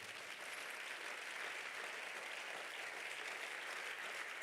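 A church congregation applauds during a French-language sermon on youth, a steady wash of many hands clapping together, even and continuous, at moderate distance without speech.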